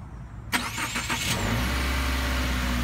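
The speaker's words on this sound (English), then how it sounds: "Just when you start up the car, you get some movement that'll show you the pivoting action." A 2018 Subaru Legacy engine cranks and catches with a sharp onset about half a second in, then settles into a steady, close idle hum with no voices.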